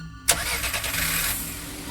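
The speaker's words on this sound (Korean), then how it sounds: "문 밖에서 차에 시동을 거는 소리가 들려왔다" In a Chinese funeral horror video game, a car engine is started just outside a door: a sudden cranking burst settles into a steady mid-pitched idle rumble, heard alone against a quiet eerie backdrop.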